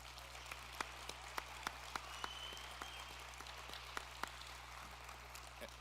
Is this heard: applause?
yes